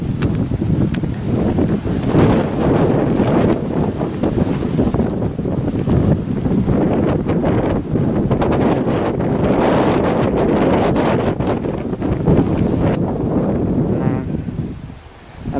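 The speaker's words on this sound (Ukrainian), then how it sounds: "Вітерець дує." Wind gusts buffet the microphone outdoors in a village, a loud, rushing, uneven roar that swells and eases over about fifteen seconds.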